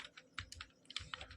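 Keys clacking on a computer keyboard while C code is entered, a quick close burst of about a dozen crisp taps in an uneven rhythm, quiet and with no voice over it.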